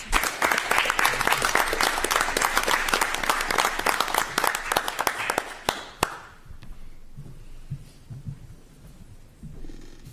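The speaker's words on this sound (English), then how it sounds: "Another big round of applause." A school board meeting audience gives a dense round of applause for retirees that cuts off abruptly around the midpoint, leaving quiet room noise with scattered faint sounds.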